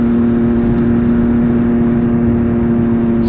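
A MV Agusta Brutale 800RR SCS (Euro 5) fitted with a Fresco exhaust idles at a steady, loud, buzzing rev with a constant tone, held evenly for the whole stretch with no voices.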